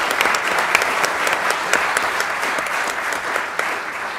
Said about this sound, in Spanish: les agradecemos con un aplauso, especialmente esta participación